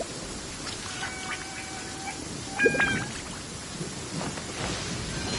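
Rain falls steadily in a video game scene as a constant hiss, with a soft rumble of thunder swelling midway and some faint chirping sounds scattered on top.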